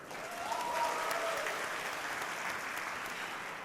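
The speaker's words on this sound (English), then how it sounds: "Can we give a round of applause to the DJ and the entertainment again" Audience applause for the DJ and entertainment at an innovation and futurism keynote, a steady wash of many hands clapping at a distance, holding even throughout.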